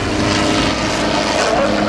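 A helicopter at a 2009 naval air station airshow drones loudly and steadily with a broad rotor and engine roar, partly mixed with voices talking.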